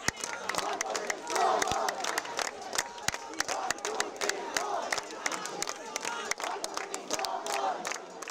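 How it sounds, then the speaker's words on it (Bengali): Crowd of students chanting slogans at a campus protest against a student party committee announcement, demanding a ban on politics in residential halls; a dense, continuous rhythmic mass of shouting voices with sharp claps or beats. "শিবিরের গুপ্ত কমিটি থেকে ছাত্রদলের কমিটি ঘোষণার বিরোধিতা সহ আবাসিক হলে ছাত্র রাজনীতি নিষিদ্ধের দাবি জানিয়ে স্লোগান দিতে থাকেন শিক্ষার্থীরা"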